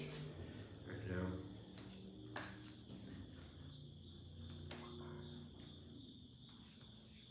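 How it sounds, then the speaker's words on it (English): Crickets chirp steadily outside at night, a continuous high trilling that runs underneath a man's quiet, rambling talk. "Fucking crickets out there, you know."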